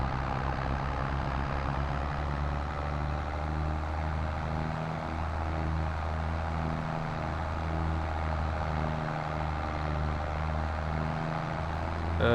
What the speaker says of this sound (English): I love this tractor.